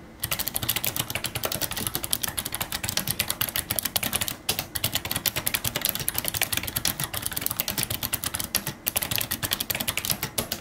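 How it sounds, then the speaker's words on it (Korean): Typing on a Razer Ornata V2 gaming keyboard with heavy, springy mecha-membrane keys and a wrist rest: a dense, steady run of close, rhythmic key clacks with only a few brief pauses, no talking. "반면에 타자를 친다고 했을 때는 이 제품만의 독특한 키감이 꽤나 재미있게 느껴졌습니다."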